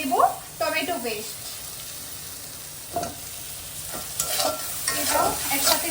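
Mutton with added tomato paste sizzles in a pan while a spoon scrapes and stirs it in intermittent bursts, with a soft frying hiss between strokes.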